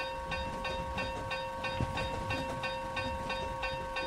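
A train backs up in the Roblox rail game RO-Scale Rails, a steady rhythmic clickety-clack of wheels over rail joints with a constant engine hum, with no talking.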